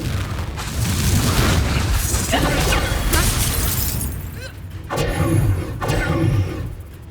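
The Confringo fire spell is cast in the Hogwarts Legacy video game, a loud, heavy booming blast with crackling bursts that rolls on, followed by another burst, with game sound mixed in.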